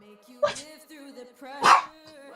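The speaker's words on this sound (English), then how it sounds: "I'm trying to see if I can get her to bark." A dog gives two short, close barks about a second apart, each a single bright yip-like bark over a quiet room.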